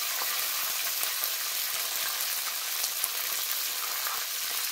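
Washed curry leaves hit hot oil with mustard seeds, giving an even, continuous sizzle up close with scattered small pops and no voices.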